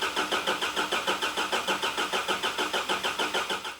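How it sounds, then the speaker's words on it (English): A Nissan Patrol engine being cranked on the starter after reinstallation, with jumper cables attached: a steady, rapid rhythmic whirring chug repeating evenly throughout, close and fairly loud, without catching, and no voices. "we knew we'd be cranking for a while to try and get this oil pressure up"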